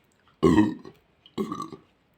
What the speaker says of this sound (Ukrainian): Після короткої відрижки.